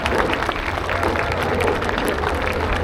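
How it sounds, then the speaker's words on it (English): Crowd applause at a Red Arrows air display in Riyadh, a dense steady wash of clapping and crowd noise with a low rumble underneath, continuous and fairly loud throughout. "Let's give Red 6, 7 and 8 a massive round of applause for Wonderful Heart in the skies of Riyadh"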